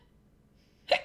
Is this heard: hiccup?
yes